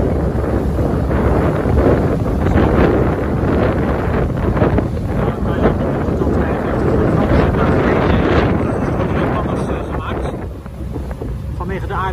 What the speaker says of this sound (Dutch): Het waait heel hard.